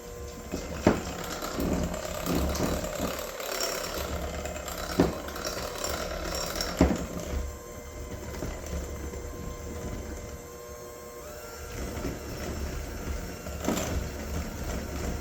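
An electric mixer runs steadily through a flour and cocoa powder batter for a lava cake, giving a continuous mechanical whir with occasional clicks and knocks from the beaters against the bowl.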